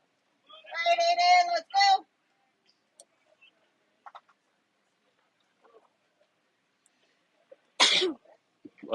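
A loud, voiced sneeze bursts out early at a youth baseball game, followed by scattered faint clicks and knocks and a brief sharp burst near the end.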